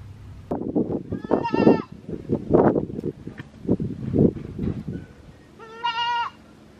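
A goat bleats twice during a blood draw for CAE testing, drawn-out nasal cries near and loud, the first early and the second near the end, with rustling, handling noises and shuffling between them.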